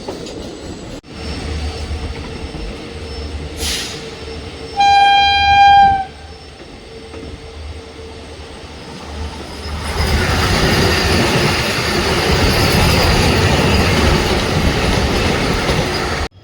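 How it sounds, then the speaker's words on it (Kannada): A train pulling into Kadur Junction on the Mysore–Talaguppa line gives a single sustained horn blast, then the rolling rumble and rhythmic wheel clatter of the carriages builds loudly and continues steadily. "ಇನ್ನೂರ 8 ಕಿಲೋಮೀಟರ್ ಕವರ್ ಆದಮೇಲೆ ನಮ್ಮ ಟ್ರೈನ್ ಬಂದೈತ್ರಿ ಈಗ ಕಡೂರು ಜಂಕ್ಷನ್ಗೆ"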